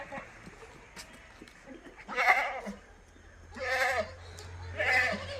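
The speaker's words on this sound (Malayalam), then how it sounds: "വലിയൊരു മലബാരി ആട്, നല്ല കനുള്ള വലിപ്പമുള്ള ആടാണ്" A large Malabari goat bleats three times in a row, each call wavering and fairly close, over quiet farmyard background.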